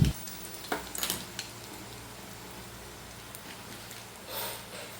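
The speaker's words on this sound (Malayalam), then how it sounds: "കടുക് പൊട്ടിക്കഴിഞ്ഞാൽ അതിലേക്ക് വറ്റൽമുളക് ഇട്ട് കൊടുക്കാം" Dried red chilies fry in hot coconut oil with popped mustard seeds, giving a soft steady sizzle with a few clinks and stirring scrapes near the start, then a brief swell of hissing toward the end.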